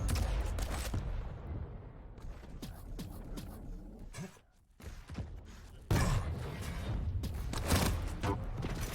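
Rocket launcher blasts and explosions during a Quake Pro League match, with dense overlapping gunfire and thuds, a brief lull near the middle, then loud renewed bursts.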